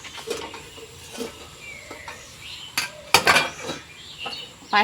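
Lid set down over a cooking pot of vegetable curry with jackfruit seeds, giving a few sharp metallic clinks and clatters spread across the span, with a louder cluster near the middle and soft kitchen background between.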